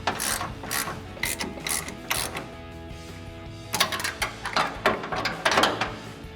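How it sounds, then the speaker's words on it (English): A hand ratchet tightens a suspension bolt held with locked vice grips during a Rough Country 3-inch lift install on a RAM 1500. Close, rhythmic bursts of clicking come in two sets separated by a brief pause. "Once you get your vice grips locked on, you can now start tightening this down."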